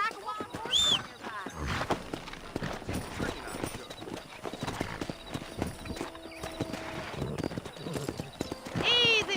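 Horse hooves clip-clopping in the Red Dead Redemption video game, a run of close, rhythmic hoofbeats with occasional whinnies, heard under speech.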